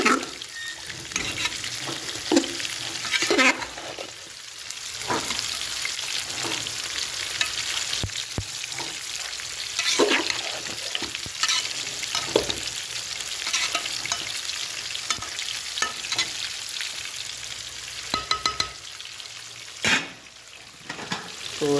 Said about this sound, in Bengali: তো এখানে আমি মাছগুলো ভেজে নিচ্ছি আর এইদিকে আমি ভালো করে লাউটাকে কষিয়ে নিচ্ছি।